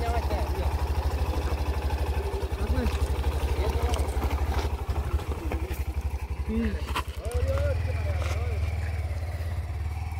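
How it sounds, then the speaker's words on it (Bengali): A motorcycle engine idles nearby with a steady low rumble, joined by a deeper, louder rumble near the end, while people talk over it. "এদিকে আবার একটা বাইক এসছে।"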